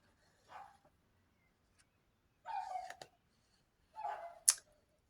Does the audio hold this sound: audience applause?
no